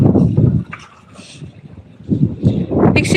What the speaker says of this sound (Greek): γενικά υψώθηκε ο αέρας και κοιτάξτε αρχίζει να κάνει κύματα